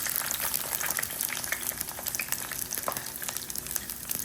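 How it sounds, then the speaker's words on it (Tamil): Onions frying in a little oil in a clay pot while making crab curry, a continuous close crackling sizzle with scattered sharp pops, steady and moderately quiet, no talking. "இதில் முதல்ல எண்ணெய் கொஞ்சம் விட்டுருக்கு. வெங்காயத்தை போடுவேன்."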